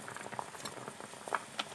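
Herbal hair oil with leaves boils in a pot held with tongs. Soft, irregular bubbling and popping patters quietly throughout, with a few sharper pops near the end.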